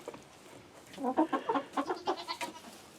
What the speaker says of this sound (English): look, you can notice how the birds when they're eating